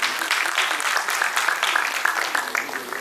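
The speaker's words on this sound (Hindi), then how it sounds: "जोरदार तालियां हैं स्वागत समारोह के लिए भी" An audience at a Panchal community education committee ceremony breaks into strong applause for the welcome, many hands clapping in a dense, rhythmic, sustained wave at close range, with some voices underneath.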